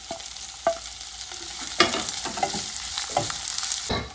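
Potatoes and onions stirred and frying in a pan with mustard seeds and cumin for kanda poha, soft steady sizzle broken by scraping spoon strokes, close and fairly quiet with no talk.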